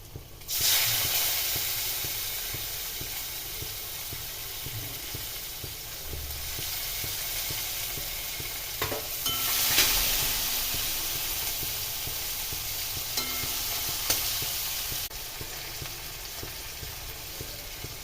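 Onion added to a hot pan with fried whole garlic, giving a loud, steady hissing sizzle that holds for many seconds with a few brief clinks and stirs, close and alone.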